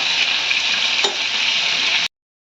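Chicken pieces frying in oil give a loud, dense, even sizzle close by, with a brief scrape of stirring midway, before the sound cuts off abruptly.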